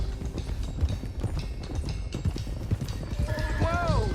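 Several horses gallop in Red Dead Redemption 2, with rapid, dense hoofbeats running throughout, and a loud whinny rises near the end over the continuous clatter.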